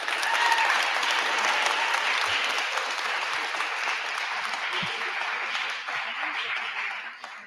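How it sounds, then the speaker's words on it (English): Sustained audience applause fills a council meeting room, a dense steady wash of many hands clapping that tapers slightly near the end, with faint murmurs underneath. "Cut off the applause"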